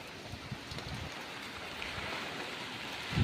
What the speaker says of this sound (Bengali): প্রচণ্ড হারে বৃষ্টি হচ্ছে